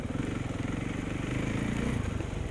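A vehicle engine rumbling at a low, even idle while going downhill on a trail, continuous and fairly close, with no revving.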